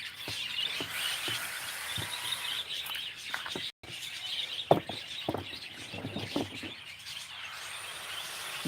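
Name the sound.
bird calling in trees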